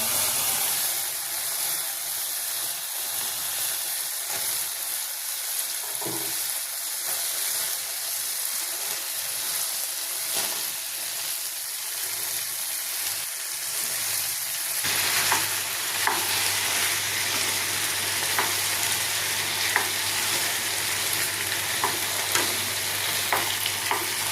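Steady frying sizzle from mixed vegetables in a pan, with occasional stirring scrapes; the hiss grows a bit louder and brighter partway through.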